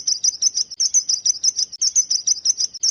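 A sparrow chirps rapidly and repeatedly, bright high-pitched tweets in a quick steady rhythm, loud and close with no other sounds.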